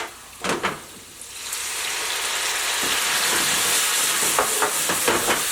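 Crown Royal whisky poured into a hot pan while cooking a carrot dish, a few brief bumps and then a loud, sustained hissing sizzle that swells and holds steady to the end.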